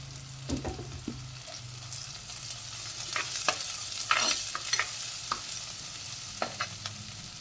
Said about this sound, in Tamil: இப்போ பெருங்காயத்தை இந்த எண்ணெய்க்குள்ளையே பிரிக்கி விட்டுக்கலாம்.